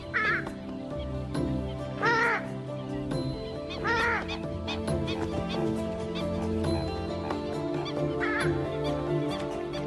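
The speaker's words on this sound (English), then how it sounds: "This is the purple swamp hen, also called the sultana bird, famed for its very loud, explosive call." A purple swamp hen gives loud, harsh honking calls that burst out every couple of seconds, repeated four times over a steady background of other bird chatter.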